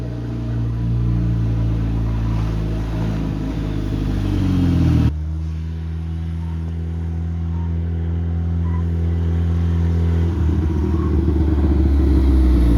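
A Volvo 740 Turbo rally car on stock sway bars drives along with a steady, loud engine drone. The pitch shifts abruptly midway, as with a gear change, then climbs again under acceleration, with no talking.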